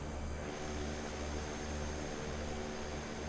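Steady, loud drone of a CL-415 water bomber's propeller engines as it comes in to land in Microsoft Flight Simulator 2024, a continuous hum with a constant low throb and no talk.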